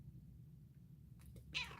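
A large house cat lets out a short, faint meow near the end over a low background hum, with no talking.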